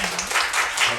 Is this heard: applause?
yes